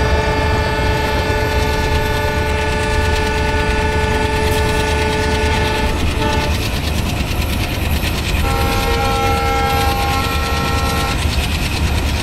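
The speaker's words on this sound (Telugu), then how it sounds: "ఓ ఇంకో ట్రైన్ వస్తుంది అట్నుంచి" A train rolls past on a new Indian Central Railway route in Train Simulator, a steady loud rumble with sustained horn-like tonal blasts that shift pitch midway, continuous for the whole stretch with no talking.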